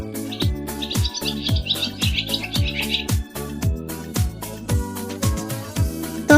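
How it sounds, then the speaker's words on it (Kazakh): Swallow chirping in quick twittering runs, close and clear, set over a looping rhythmic music bed with regular beats. "Қарлығаш."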